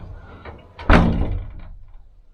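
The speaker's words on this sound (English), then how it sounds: "That way when you shut this door," A deer hunting blind's door is pulled shut with a single solid wooden thunk, a sharp close impact that rings and rattles briefly before fading. A few faint knocks come just before it.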